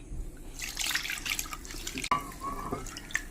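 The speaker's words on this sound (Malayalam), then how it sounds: "കുറച്ച് വെള്ളം ഒഴിച്ച് കഴിക്കാം" Water poured into a pan of chicken curry seasoned with pepper and turmeric, a close, steady trickling splash with a few drips.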